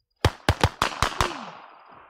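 A quick burst of about six sharp gunshots from the video game Warzone, close and loud, each crack trailing into a fading echo.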